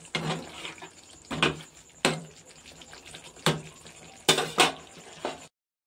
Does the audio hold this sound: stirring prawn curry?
yes